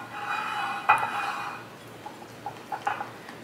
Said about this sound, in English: I'm using a spatula to mix it just so that I can get to like the corners